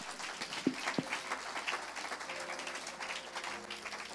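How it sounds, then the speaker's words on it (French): A church congregation clapping in applause during a sermon, a soft mix of many hands, with two sharper claps standing out early and the clapping going on fairly evenly without talk. "If you want to clap, clap."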